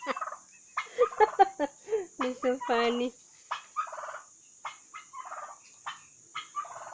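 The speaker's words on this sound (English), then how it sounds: "The dogs are chasing the turkeys here." Turkeys gobble in loud, rapid bursts while dogs chase them, the calls coming close and repeated in quick clusters, with a person briefly speaking.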